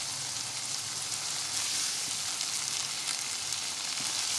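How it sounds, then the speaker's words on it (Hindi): Chicken and green beans sizzle and fry steadily in a pot over the flame, a continuous close hiss with no talking. "अब आप इसे 2 मिनट भूनें"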